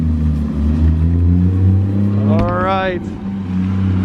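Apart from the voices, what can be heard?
Porsche car driving away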